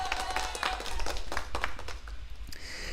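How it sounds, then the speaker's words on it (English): Sound-effect applause plays in short bursts of clapping with a thin crowd texture, fairly quiet and brief, ending in a softer tail. "You deserve a triple applause."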